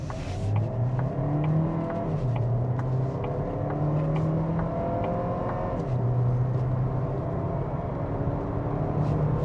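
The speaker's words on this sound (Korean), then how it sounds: "그래도 가속 성능 한번 보려고 잠깐 차를 세웠습니다" A Kia Seltos hybrid in sport mode pulls away hard from a stop with the pedal floored. Engine and motor tones rise steadily through the gears at a loud, constant level with road rumble underneath.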